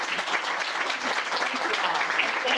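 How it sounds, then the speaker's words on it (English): An audience gives a guest, Ronne Hess, a warm round of applause: dense, steady clapping from a room of people, moderately loud and continuous, with faint voices mixed in. "So can we all give Ronnie a round of applause?"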